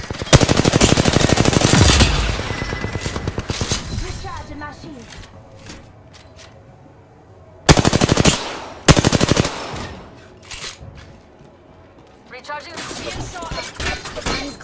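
Automatic gunfire rattles in rapid, loud bursts during Apex Legends gameplay, with a long sustained volley at the start and shorter bursts later, under in-game character voice lines.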